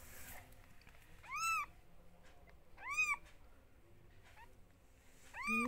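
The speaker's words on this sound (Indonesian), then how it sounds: "Ini anaknya kucing liar semua ini." Newborn kittens of a free-roaming village cat give three thin, high, rising-and-falling mews spaced a second or so apart, faint and close over quiet background.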